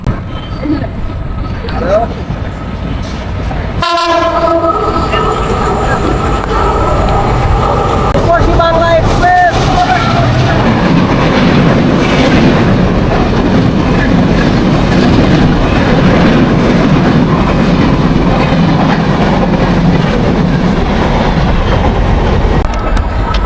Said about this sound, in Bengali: এই মুহূর্তে আফরা রেল সেতুর উপরে প্রবেশ করছে আন্তনগর রূপসী বাংলা এক্সপ্রেস